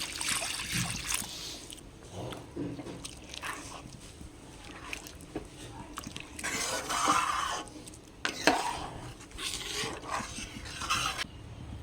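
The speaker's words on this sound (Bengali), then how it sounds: "এবার জল দিয়ে দেবো।" Water is poured into a pot of boiled, mashed dal, heard as quiet trickling and splashing with a few soft clinks of a ladle against the pot.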